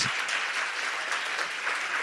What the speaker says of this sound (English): can we give Mr. Martin a giant round of applause?